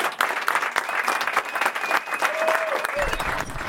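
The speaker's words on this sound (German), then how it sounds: "Applaus für euch selber" Studio audience at a live football talk show about Eintracht Frankfurt applauding, dense continuous clapping close and loud throughout, with faint voices and a whistle-like tone mixed in.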